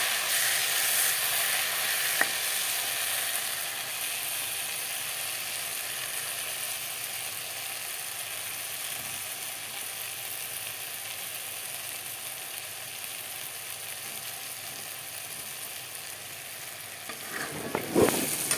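Dried fish chutney ingredients fry together in a pan with a continuous, even sizzle, steady and moderately loud. A few clatters from stirring come near the end.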